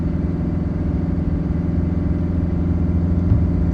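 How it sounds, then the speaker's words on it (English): A truck engine drones low and steady as it strains up a steep hill while towing a load, a constant heavy rumble with no talk. "this is where the truck feels the weight behind us"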